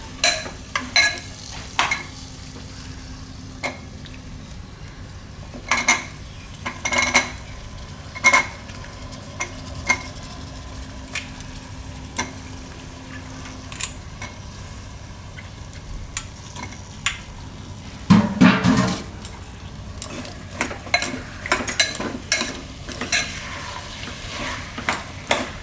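Broad beans and potatoes cooking in spices in a pan, with a low background sizzle and a spoon repeatedly scraping and clinking against the pan, including a denser burst of stirring near the end.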